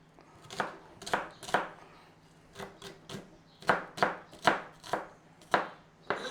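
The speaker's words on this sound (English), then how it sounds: "Now I've got white onion here." A knife chops a small white onion into small cubes on a board, making crisp, fairly close knocks that come in quick bursts of three or four with short pauses between them.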